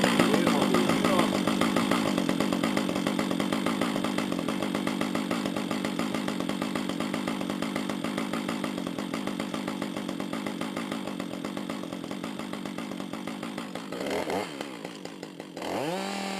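A chainsaw cuts a log into roughly 80 cm lengths. The loud, close engine snarl runs steadily under load, fades a little as the cut goes on, then drops back to a lower pitch near the end.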